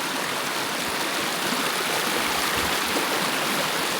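Steady rushing of a flowing stream, a continuous close wash of water with no other sounds.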